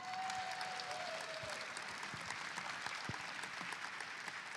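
A Hall of Fame inductees banquet audience applauds in a large hall, a steady sustained wash of clapping from many people, moderately distant and even throughout, with no distinct cheering voices standing out.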